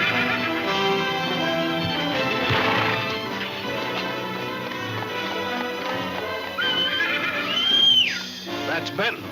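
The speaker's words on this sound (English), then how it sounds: "That's Benton calling his horse" A horse neighs and whinnies loudly near the end, over a dense, busy background of music and sound.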